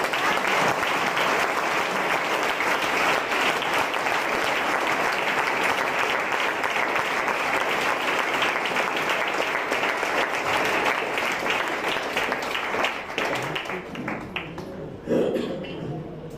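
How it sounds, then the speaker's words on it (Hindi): Church congregation claps loudly and continuously for a long stretch, a thick wall of applause that holds steady before thinning out near the end, when a voice briefly emerges. "ईश्वर के लिए जोरदार ताली बजाए।"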